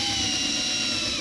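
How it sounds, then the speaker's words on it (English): Power drill boring into a Container Store shelving unit for a craft room, a continuous whining buzz running steadily throughout, close and loud. "I don't want to drill so deep that I go through this shelving"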